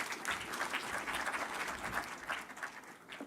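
An audience at the launch of a Nairobi Securities Exchange market event bursts into sustained applause, a dense even patter of many hands clapping without a break.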